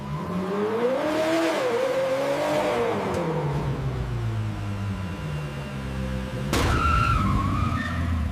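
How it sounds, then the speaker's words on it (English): Car engine pushed hard during factory vehicle testing, revving up and down with rising and falling pitch, then a sudden loud surge near the end, with no talking. "Engines are pushed hard."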